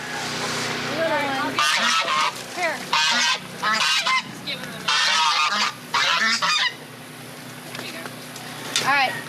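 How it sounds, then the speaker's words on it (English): Several geese honk loudly in repeated bursts, close by, with harsh nasal calls overlapping and brief gaps between them. "there are still 2 geese to deal with"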